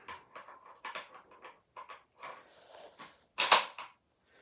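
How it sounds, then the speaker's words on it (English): Bolt of a Bergara B14 Ridge rifle slides into the action from the rear, with a run of small metallic clicks and scrapes ending in one louder, sharp snap as it closes. "let's go ahead and insert the bolt"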